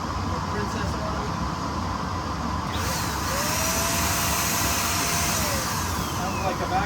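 A steady, loud whirring motor hum from a cheap Princess Auto electric paint spray gun runs throughout, constant and near, droning without pause like a vacuum cleaner.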